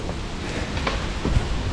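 Gusting wind from an approaching storm rushes through the woods in a steady roar, with a few brief low thumps and cracks mixed in, close and fairly loud with no voices.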